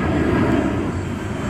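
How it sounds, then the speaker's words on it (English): A fixed-wing airplane passes overhead with a steady, broad engine roar that stays loud and even throughout, with no talk over it. "Oh, we gotta wait. There's a plane."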